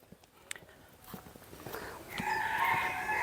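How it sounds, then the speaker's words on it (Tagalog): An Ayam Cemani chicken, an Indonesian breed, crows at a bird park in Pampanga, a strong drawn-out call rising near the end over faint footsteps and ambient noise, with no talking. "Ayan yung manok na sinasabi ko kanina."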